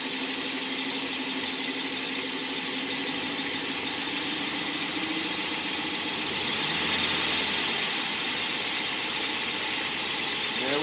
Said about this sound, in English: a 1955 Ford Thunderbird Y-Block motor running on engine run and test stand.